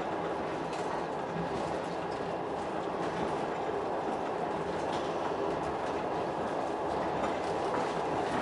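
Russian passenger train 354 running on rails, heard from inside the carriage as a steady, moderately quiet rumble with rhythmic clickety-clack from the wheels and no talking.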